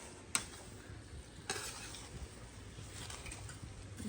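Grated dried coconut stirred in a pan while cooking a Randhan Chhath festival dish, a faint steady scraping with two light clinks of utensil against the pan.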